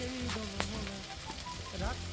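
Potatoes fry in a pan with a soft, even, close sizzle that runs steadily through the short clip, with faint clinks over it.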